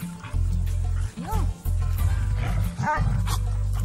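A dog barks in short, separated bursts near the listener, breaking through a loud low engine-like rumble.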